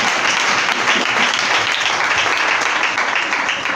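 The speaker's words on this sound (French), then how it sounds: "On applaudit ce Seigneur à la vie" A church congregation breaks into loud, sustained applause, dense and even clapping from many people that fills the whole moment without pause.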